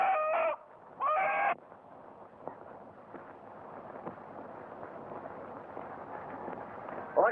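A rooster in an old 1937 Mexican film clucks and crows in two loud bursts at the start, then low background noise with faint sounds follows.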